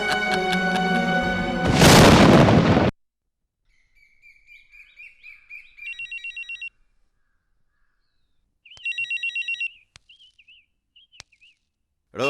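An electronic telephone rings in a Malayalam TV comedy serial scene: two short trilling ring bursts follow a loud musical sting, with faint chirpy tones in between and no talking.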